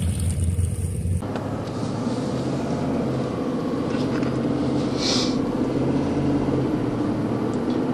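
Steady low road rumble of a pickup truck cruising on the highway during a long road trip to collect an old panhead motorcycle, continuous and moderately loud with no talk.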